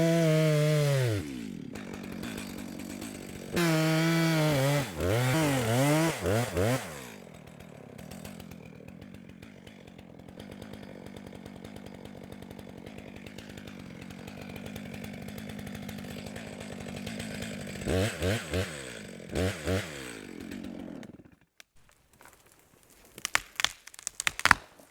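A chainsaw bucks firewood to uniform lengths freehand in a wooded area, with a loud revving roar in bursts near the start, a long steady cutting drone through the middle, then short revs and quiet knocks at the end.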